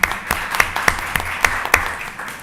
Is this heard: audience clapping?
yes